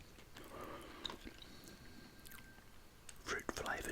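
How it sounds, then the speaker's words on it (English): Sugar-free StarBurst Fruity Burst chewing gum, a fruit-flavoured xylitol gum, chewed close to the mic: soft wet smacks and squishes that thicken into louder mouth sounds near the end, over faint breathy background. "that's the StarBurst chewing gum Fruity Burst"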